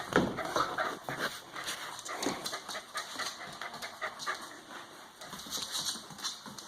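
A dog fetching a toy during indoor play on a rainy day pants and snuffles close by, with breathy bursts, small whimpers and movement noises running through the whole stretch, and no talk.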